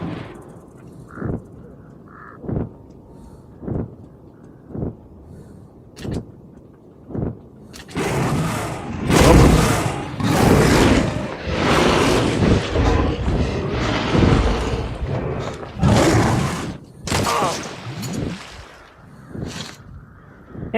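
Demon creatures in the game Metro: Last Light let out harsh, cawing roars. Isolated bursts come first, then a dense, loud stretch of overlapping screeches and rumble, then more sporadic cries, with no speech.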